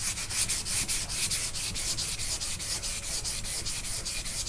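Sandpaper rubs by hand across primer on a car body, a steady, close scraping in quick regular back-and-forth strokes that continues without pause and with no voices.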